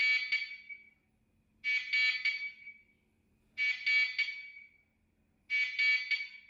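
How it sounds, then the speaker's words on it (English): A harsh, loud electronic siren from a Zosi C289 security camera, triggered by motion detection, blares in repeated bursts of about a second, separated by short silences, with nothing else heard. "when the camera detects motion, it will flash the white LEDs and turn on a loud siren"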